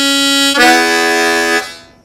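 An old-time harmonica plays a single held note, then a full, loud sustained chord that fades out. It is close and alone, with no voices.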